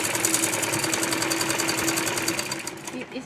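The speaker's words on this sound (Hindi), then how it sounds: "इस तरीके से इलास्टिक को खींचते हुए हमें सिलाई को लगाना है।" A sewing machine stitching stretched elastic onto palazzo trousers runs in a fast, steady mechanical chatter close to the microphone, with someone talking over it.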